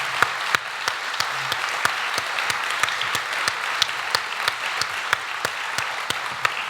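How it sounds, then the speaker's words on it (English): A medium-sized audience at an evening science talk claps in a round of applause, the sharp overlapping claps fairly close and continuous for several seconds, with no talking. "could you give a huge round of applause for Andrew White for his talk this evening?"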